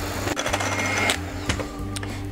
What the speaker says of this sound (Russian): И теперь горячий сироп мы вводим в белки и взбиваем.